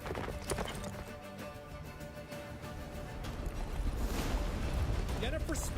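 Roach the horse galloping in The Witcher 3, a steady drumming of hooves under a dense wash of game music and ambience that swells louder toward the end.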